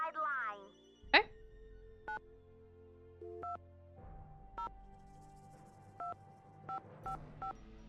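A telephone keypad is dialed in the Nancy Drew: Secret of the Scarlet Hand game, giving a series of short separate touch-tone beeps at an uneven pace, with a sharp electronic chirp near the start, heard clearly over a quiet background.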